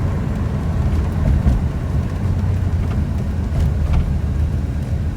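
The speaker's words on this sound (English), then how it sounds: "I'll let you guys kind of enjoy riding in a 1982 Corvette" Steady low engine rumble and road drone from inside a moving 1982 Chevrolet Corvette Stingray, a continuous cabin hum with no talking.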